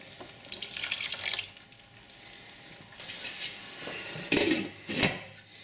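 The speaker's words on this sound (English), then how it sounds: "Now I'm going to add a dash of water to this" Water poured into a pan of moussaka sauce before simmering, a splashing, running pour in a few bursts with kitchen clatter, close and moderately loud.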